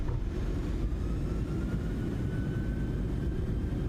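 PMDG 737-600 jet engines spooling up for a rolling takeoff in a flight simulator, a steady heavy low rumble with a faint rising whine above it, continuous and close.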